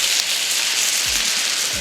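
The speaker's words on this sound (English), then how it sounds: "So now I need to just add a little water to the pan." Water poured into a hot pan of dumplings erupts in a loud, steady hiss and sizzle of steam and spattering, like heavy rain, lasting throughout with a couple of low thuds.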